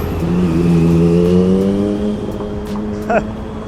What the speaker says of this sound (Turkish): şu karşıda gelen sarı otobüs var ya şu garip görünen otobüs